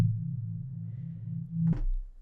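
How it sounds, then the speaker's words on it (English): A smooth, low synthesizer chord of detuned soft sine waves hums steadily, then ends with a short click near the end. "If we put a sine wave on that,"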